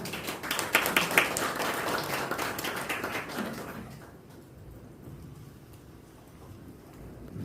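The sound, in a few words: audience applause welcoming a speaker to the stage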